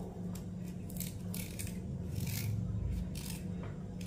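Ginger being cut for a weight loss drink, giving a series of close, soft scraping and chopping strokes on a board with no voices.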